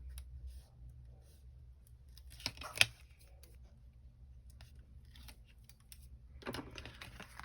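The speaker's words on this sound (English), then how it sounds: "I'm just going to take off my release paper." Release paper peels off a die-cut paper card caddy, giving quiet crackling and tearing sounds with a few sharp clicks and rustles close to the microphone.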